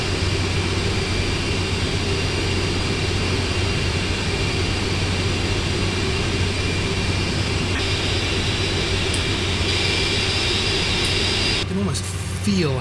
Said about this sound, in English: You can almost feel how incredibly powerful this thing is just sitting here listening to the engine start